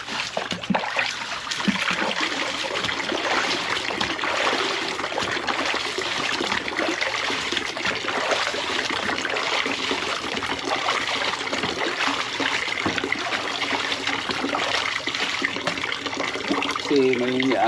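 Running water pours steadily while laundry is rinsed at home, a constant close splashing and trickling wash that stays moderately loud throughout.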